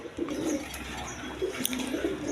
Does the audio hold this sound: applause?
no